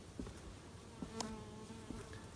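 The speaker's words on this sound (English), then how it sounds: "Roughly 15 million bees." Bees in a shed of roughly 1,600 to 1,700 hives hum in a soft, low drone, with occasional faint taps and clicks over the steady buzz; no voices.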